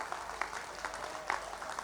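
Audience clapping at a Hindi poetry recital with Dinesh Bawra, a steady wash of applause with scattered louder claps, moderately distant and continuous throughout.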